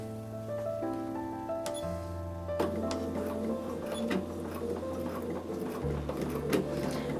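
A sewing machine stitches a fabric face mask up close, its motor whirring steadily and shifting pitch in a few distinct steps, with scattered sharp clicks over a quiet background.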